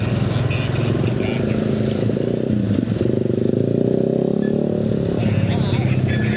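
A motorcycle engine buzzes nearby on a road trip route in Bali, rising and passing close. Voices talk over the steady engine noise.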